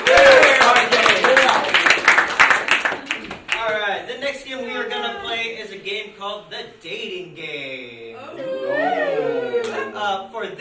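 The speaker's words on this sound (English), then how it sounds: "these guys a round of applause" At a live improv comedy show, the crowd claps briskly for about three seconds before the applause fades and an animated voice, with laughter-like sounds, takes over.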